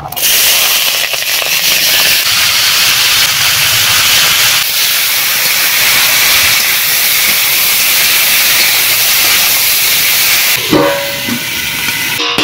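Spices and mustard oil sizzle in a hot pan, a loud, steady hiss that runs almost unbroken to the end, with a brief clatter near the close.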